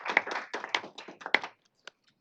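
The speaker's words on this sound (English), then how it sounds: "let's give them a big round of applause too" Applause from the audience at a Michigan State Board of Education meeting: a brief burst of clapping that runs for about a second and a half, then stops, leaving a few stray claps.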